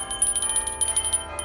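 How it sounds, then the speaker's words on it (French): A bell sound effect rings in a rapid series of bright, metallic strikes, loud and close with a sustained high ring, with no talk over it. "sonnez la cloche"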